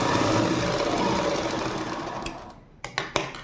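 A sewing machine runs continuously while stitching a skirt hem in a tailoring job, a loud close whirring hum that slows and stops, followed by a few sharp mechanical clicks.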